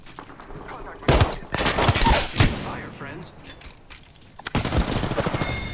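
Bursts of rapid automatic gunfire in the video game Apex Legends, loud and close, two long volleys separated by a short quieter gap, with faint voices beneath.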